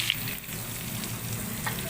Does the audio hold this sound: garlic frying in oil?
yes